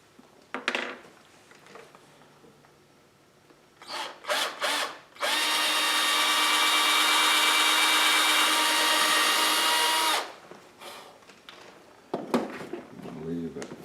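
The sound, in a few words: power drill boring a hole in a bear claw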